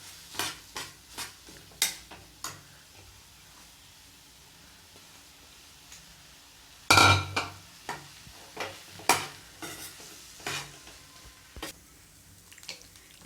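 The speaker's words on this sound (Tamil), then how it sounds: "பிரெட்டை போட்டு நல்லா கிளறி விடுங்க" Spoon stirring bread upma with masala in a pan, giving repeated scraping clinks against the metal at an uneven pace, with one louder clatter midway and faint sizzling underneath.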